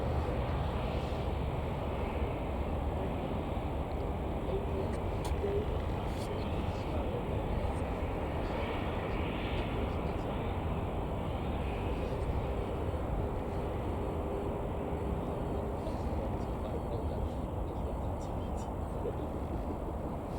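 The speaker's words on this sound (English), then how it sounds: "It's an Airbus A350-900, which is a 4-year-old aircraft." An Airbus A350-900, four years old, at Manchester Airport gives off a steady, even engine roar heard from a distance, unbroken throughout.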